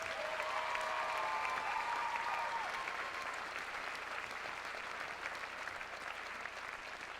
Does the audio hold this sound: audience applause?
yes